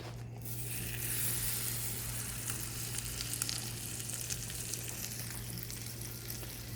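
Butter sizzles steadily in a hot pan on the stove as a low-carb sandwich with chicken grills, a continuous close frying hiss with a low hum beneath and no talking.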